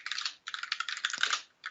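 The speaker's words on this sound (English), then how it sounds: "I hope my keyboard is not too noisy." Typing on a computer keyboard during an online developer community call: steady bursts of close, crisp key clicks with two short pauses, no talking.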